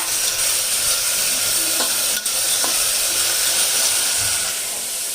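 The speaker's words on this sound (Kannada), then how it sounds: "ಈಗ ಒಗ್ಗರಣೆ ಹಾಕ್ತಾಯಿದ್ದೀನಿ" Spices tempering in hot oil for an okra dish, a steady loud sizzle and hiss with faint spatters, close up and continuous.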